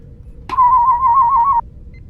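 A single sustained whistle from a person, one steady tone held for about a second with a slight waver, over quiet background.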